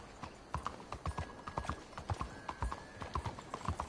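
Horse hooves clip-clop steadily on a trail in Red Dead Redemption 2, a quick even rhythm of close hoofbeats throughout, with a faint tone in the background and no voices.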